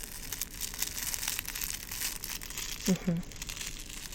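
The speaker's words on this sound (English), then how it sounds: "you can hear that crinkle in there" A lavender-filled sleep pillow gives a brief close crinkle, a couple of soft rustling bursts near the end, under a quiet murmured voice.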